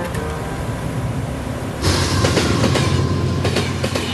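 A train on the world's highest railway rumbles steadily along the rails, its loud continuous roar swelling suddenly partway through, with no voices.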